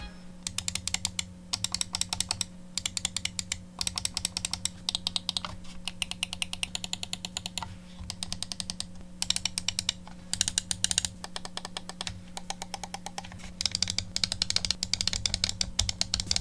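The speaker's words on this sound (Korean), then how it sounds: "클릭음 자체는 시원시원하고 구분감도 명확해서" Crisp, rapid clicks from the optical-switch buttons of a white Glorious D2 PRO 8K wireless mouse, close and steady, in dense rhythmic bursts separated by brief pauses, with a faint hum beneath and no speech.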